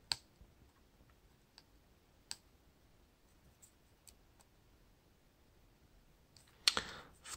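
Prying the earpiece speaker out of a Nokia C3 phone with a small tool during disassembly: a few faint, sparse clicks and ticks scattered over near silence, ending with a brief, louder scraping crackle.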